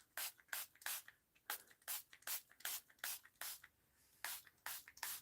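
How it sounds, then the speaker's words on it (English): A spray bottle mists onto journal pages in a steady series of short, sharp hissing pumps, about a dozen bursts in quick rhythm, close and clear with no talk. "So we're going to spray it on the other side."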